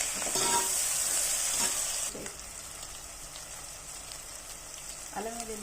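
Ginger garlic paste and green chillies frying in oil for an ivy gourd curry, a steady loud sizzle for the first two seconds that settles into a softer continuous hiss, with a brief stir near the end.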